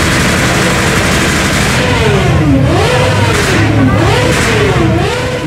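Big motorcycle engines roar and rev repeatedly at a huge biker gathering in Andalusia, pitch sweeping up and down in swooping throttle blips over a dense, loud crowd of engine noise.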